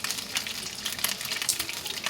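Whole garam masala spices sizzling in hot ghee in a pan, a steady close crackle and spit of frying with faint stirring, no voices.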